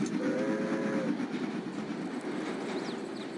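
A train passes by in the Postal 2 video game, giving a steady broad rumble with a faint whistle-like tone near the start, fairly distant and continuous with no voices.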